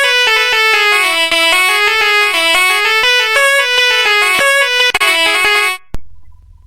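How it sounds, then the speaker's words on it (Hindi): Sampled nadaswaram reed instrument from the Swar Plug software, playing a bright, nasal, reedy melodic phrase of sliding sustained notes that stops abruptly near the end. "ये नादस्वरम है"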